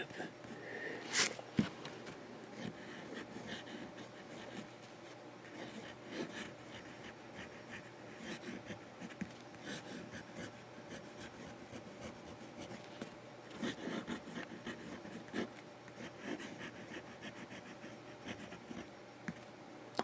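A Moonman Silver Spider fountain pen with a fine nib writes across paper, giving a soft, continuous scratchy rubbing with brief strokes and pauses, close and quiet, with faint breathing.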